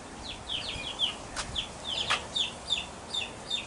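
Hens cluck in quick, repeated short calls, several birds overlapping at moderate distance, with a couple of sharp clicks or knocks mixed in and no talking.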